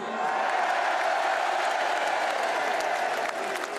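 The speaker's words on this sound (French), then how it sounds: "Applaudissez-le." A crowd at a political rally at the Trocadéro applauds steadily, a dense and even wash of clapping with faint cheering mixed in, sustained throughout.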